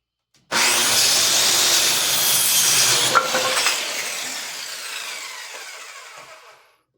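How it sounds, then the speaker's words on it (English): Circular saw ripping through a wooden board on a beginner workbench build, one loud continuous cut that starts abruptly, holds strong, then tapers off as the blade finishes, with no talking. "put your square up against the fence of your circular saw, hold it down, put your weight on the board"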